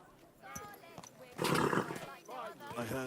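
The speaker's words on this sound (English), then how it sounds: "Easy. Nice and slow. Calm down, horse." A horse in the medieval game Kingdom Come: Deliverance II snorts and whinnies with some hoof clatter, building to a louder burst midway, while someone talks calmly over it.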